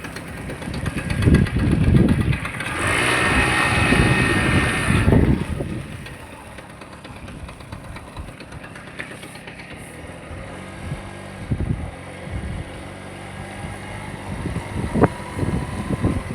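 A motorbike engine runs steadily near a village bus stand, loud and rough for the first few seconds. It then settles into a quieter idle with some mechanical rattling.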